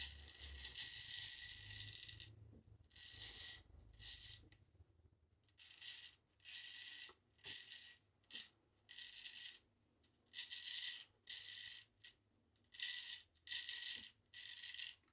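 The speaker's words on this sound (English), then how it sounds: "It's just wiping away very, very thick stubble." A straight razor drags through very thick stubble in close, bursty scraping strokes, each a short rasp separated by brief pauses, with a few faint clicks between.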